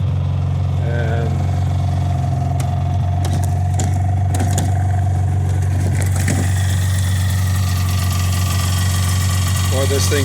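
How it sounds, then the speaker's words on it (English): An old Polaris snowmobile with new fuel lines and a patched fuel tank runs at a steady idle, its loud, constant engine drone broken by occasional rattles and clanks. "boy, this thing started right up and it is running great."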